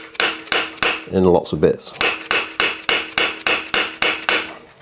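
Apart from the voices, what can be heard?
hammering chisel into seat post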